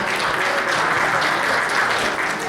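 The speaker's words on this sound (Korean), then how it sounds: "큰 박수 부탁드리겠습니다." Audience applause fills a business awards ceremony at a chamber of commerce, a dense, steady roar of many hands clapping close up, loud and unbroken throughout with no talk over it.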